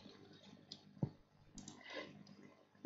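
A computer mouse clicks sharply a couple of times at close range, with light tapping and faint rustle in between during a 3D modelling session.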